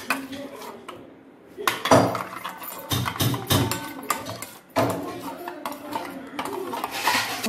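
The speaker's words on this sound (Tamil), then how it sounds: "ஒரு முட்டையை நான் அடித்து கலக்கிக்க போகிறேன்" A single egg with salt is beaten in a bowl, making a steady, busy clatter of utensil against the dish that runs the whole time, close and fairly loud, with no one talking.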